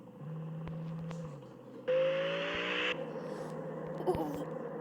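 A car drives along a road with a steady engine hum and tire rumble, then a rising whine swells for about a second before easing back to a continuous drone, heard from inside and fairly loud.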